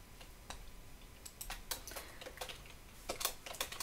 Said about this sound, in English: you can manually type some questions